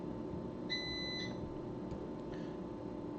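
A backup battery for a home internet line gives a short electronic low-battery beep, a thin high tone lasting about half a second and heard faintly over steady room hum and background noise.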